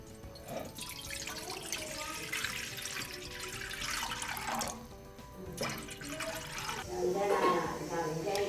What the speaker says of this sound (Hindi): अब हम चूल्हा ऑन करते हैं और एक बर्तन में पानी डालते हैं।